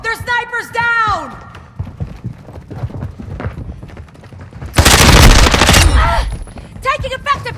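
Gunfire rattles through a Call of Duty: Modern Warfare II multiplayer match, with scattered shots, then a loud, dense burst of automatic fire near the middle, amid shouted voices and game sounds.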